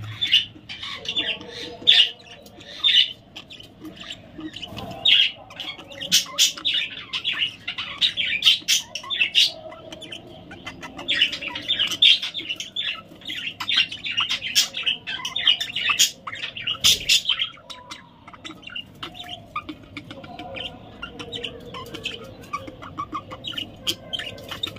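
A small bird squawks and chirps repeatedly while pecking at an egg twice its own weight, the calls close and lively in irregular bursts throughout, with scattered tapping underneath.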